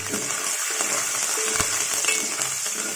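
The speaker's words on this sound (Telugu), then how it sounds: "దీంట్లో పచ్చిమిరకాయలు ముక్కలు, కరివేపాకు, పచ్చిమిరకాయలు చీలికలు, కరివేపాకు వేస్తున్నానండి" Green chilies and curry leaves sizzle steadily in hot oil while making semiya mango pulihora, a continuous close crackle with small pops and no talking.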